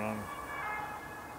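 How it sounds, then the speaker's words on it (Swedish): An ambulance siren wails in the distance on a street, a steady tonal sweep that stays faint and continuous behind the ambient background. "Ja, det var ambulansljud."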